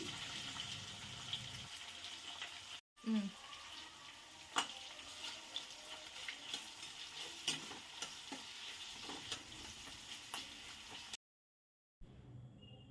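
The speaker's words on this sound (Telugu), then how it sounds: "సన్నగా కట్ చేసుకున్నాం ఉల్లిపాయలు కూడా వేసుకొని వేయించుకోవాలి" Thinly sliced onions hitting hot oil with mustard seeds, chana dal and dried red chillies, a steady close sizzle with occasional stirring clinks, then a sudden cut to silence near the end.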